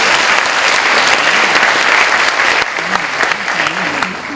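Audience applause at a university church worship service, a dense steady clapping from a large congregation that carries on throughout with little change in intensity, fading slightly toward the end.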